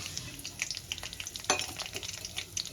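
Black cumin seeds and green chili frying in hot white oil in a wok, a steady crackling sizzle with scattered sharp pops and a brief louder burst, close up with no voices.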